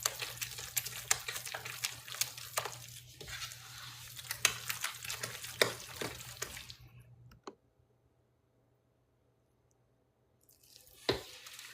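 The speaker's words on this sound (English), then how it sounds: "you have to really mix the egg in, about like you do mac and cheese" Raw egg being stirred into a sausage dressing mixture in a bowl, with a run of close, wet clicking and squelching strokes. The stirring stops abruptly into near silence, then one last scrape comes at the end.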